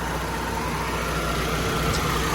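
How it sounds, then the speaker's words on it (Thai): A steady, low engine hum from an idling Honda City with automatic transmission runs evenly without changes in pitch, with no voices. "เครื่องยนต์นะฮะเดินเบานะฮะเดินนิ่งๆเลยนะครับ"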